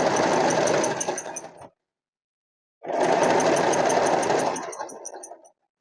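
An electric sewing machine stitches a picot edge along folded sari cloth in two loud, close bursts of rapid needle clatter, with a silent pause between them.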